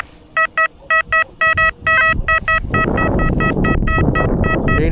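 XP Deus metal detector giving a series of short, crisp beeping target tones in quick bursts, heard outdoors over rustling ground noise as the coil sweeps.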